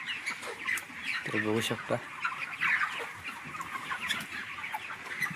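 Thirty-day-old broiler chickens on a poultry farm cluck and squawk in short bursts at close range, with brief speech over the flock.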